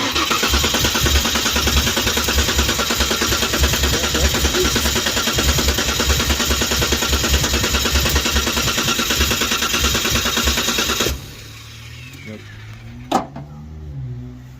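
A 1992 Ford Ranger 3.0L engine running just after being installed, a loud steady idle with rapid rhythmic pulsing for about eleven seconds before cutting off abruptly, followed by quieter clanks and a sharp knock.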